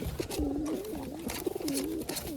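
Roller pigeons coo steadily in soft, rolling phrases, close and clear, with a faint background hum.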